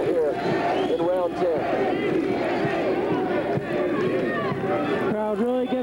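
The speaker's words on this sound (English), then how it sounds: "Crowd really getting into it." A crowd at a professional boxing match cheers and roars steadily through the whole span while a commentator talks over the noise.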